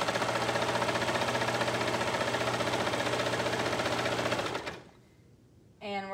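A sewing machine stitches binding onto a child's bathrobe through three layers of fabric, a close, rapid, steady whir for several seconds that stops abruptly, followed by a brief voice.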